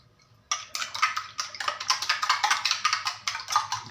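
Repeated scraping and clinking of a utensil against a pan, stirring eggs fried with candlenut, a steady rhythmic stirring at close range with no talking.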